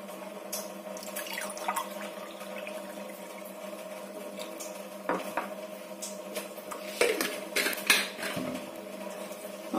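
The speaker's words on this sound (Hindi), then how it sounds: "तो मैं पहले एक गिलास इसमें पानी ले लूंगी" Water pours into a glass in a home kitchen for a glucose drink, with trickling and dripping, light clinks of glass and utensils, and a few louder knocks near the end.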